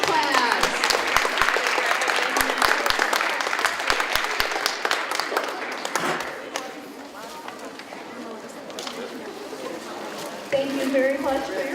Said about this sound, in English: And a round of applause for Mrs.